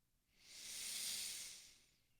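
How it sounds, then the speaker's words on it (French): A long, deep inhalation through the nose or mouth during a sophrology breathing exercise, a soft airy hiss that swells and fades over about two seconds, close and quiet with no other sound. "Je vais prendre une grande inspiration"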